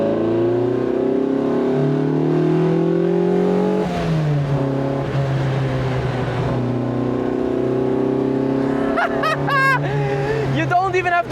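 A Lotus Elise 340R engine drones loudly from inside the cabin while driving, its pitch rising steadily and then shifting between gears, with a person talking over it.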